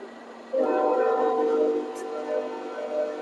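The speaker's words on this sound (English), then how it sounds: "Hello, Mr. Freight Train." A freight train rumbles past with a sustained horn sounding, steady and moderately close, then fading slightly toward the end.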